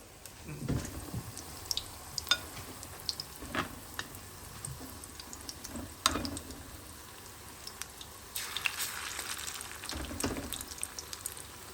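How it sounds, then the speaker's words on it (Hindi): Chicken pieces for butter chicken frying slowly over low heat, with an uneven crackle and scattered sharp pops, and a brighter, busier hiss of sizzling toward the end. "अब इसको धीमा धीमा फ्राई कर रहे हैं।"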